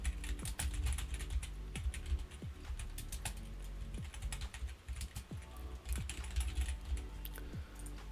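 Code is typed on a computer keyboard in quick, irregular bursts of light clicking keystrokes, close and fairly quiet, with a few short pauses between runs of typing.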